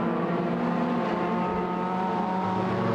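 Modified sedan race cars roar around the Lismore Speedway dirt track during a junior race, a dense, continuous engine drone with revving that stays loud and steady throughout, with no voices.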